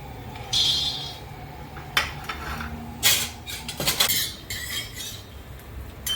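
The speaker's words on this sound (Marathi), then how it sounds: "आता मी प्रथम शेंगदाणे भाजते आहे" Peanuts dry roasting in a pan for a stuffed brinjal dish, heard as close, irregular clinks and scrapes of a utensil against the metal pan, with a few sharper knocks and rattles and no talk.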